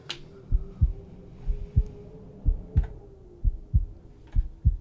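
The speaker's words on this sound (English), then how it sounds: "Heartbeat." Paired heartbeat thumps, a sound effect in a song, repeat in a steady lub-dub rhythm, deep and prominent over a soft sustained hum.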